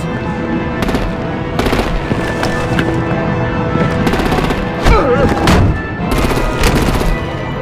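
Rapid bursts of automatic gunfire and heavier artillery-like blasts from a Batman: The Enemy Within game scene, loud and close in repeated volleys with brief gaps and a sharp boom near the middle.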